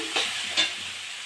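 Cabbage filling for veg momos stirred and fried in a pan, two brief scraping stirs over a soft, steady sizzle.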